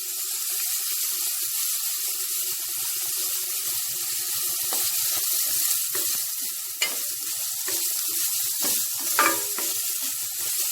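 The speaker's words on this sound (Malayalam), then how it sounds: "സവാളയിലേക്ക് ആവശ്യത്തിന് ഉപ്പ് കൂടി ചേർത്ത് അത് പെട്ടെന്ന് വഴന്നെടുക്കുന്നതാണ്." Sliced onions with salt sauté in a pan, giving a steady, close, continuous sizzle with occasional scraping stirs and clinks, without talking.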